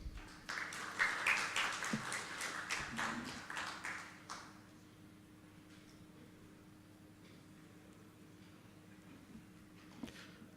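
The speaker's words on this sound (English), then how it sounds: "Shall we welcome them with a round of applause?" Audience applause at a conference plenary session in Ghana: a round of clapping rises quickly, carries on for about four seconds, then dies away into a quiet hall hum.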